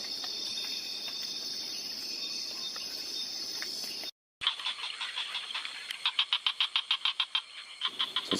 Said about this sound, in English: There's a lot of these frogs out.